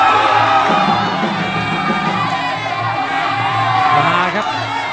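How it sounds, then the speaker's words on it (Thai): A loud, dense crowd roars and shouts continuously ringside at a Thai Fight League Muay Thai bout, with whoops and yells over a constant wall of cheering. "บรรยากาศที่มุมที่เชียร์กันแหมสุดฤทธิ์สุดเหวี่ยง"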